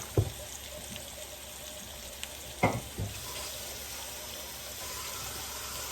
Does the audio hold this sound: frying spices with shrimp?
yes